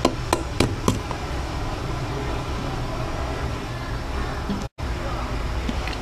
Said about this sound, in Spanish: Cogemos unos cuantos pistachos, lo pelamos y en el mortero o con una trituradora, una picadora,